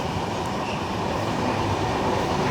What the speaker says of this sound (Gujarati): પહેલી ટ્રેન હું જોઉં છું કે જે સામેની તરફ નથી આવી ને આ બાજુ આવી.